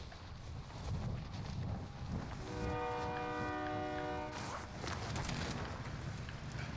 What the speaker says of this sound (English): Come here, train.